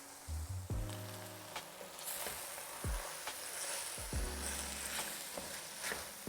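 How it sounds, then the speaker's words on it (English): Drained chickpeas are stirred into a sizzling masala whose oil has begun to split, with a faint steady fry under several scraping stirs and clinks of a spoon in the pan, close by and with no voices. "You can stir in your drained chickpeas."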